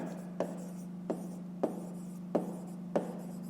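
A pen writes on paper during a fifth-grade maths exercise, giving a few short scratchy strokes at a steady pace over a constant low hum, close and fairly quiet.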